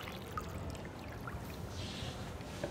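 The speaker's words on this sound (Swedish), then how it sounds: "Och sen slår vi på ungefär en liter vatten eller tills det täcker hela revbensspjället." About a litre of water is poured over pork ribs in a pot, giving a quiet, continuous splashing pour heard close up with no talking.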